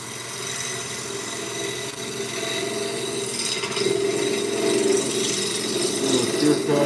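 A woodturning lathe takes a light shear cut across a wooden bowl, giving a steady, close, continuous scraping hiss that swells slightly toward the end with no pauses.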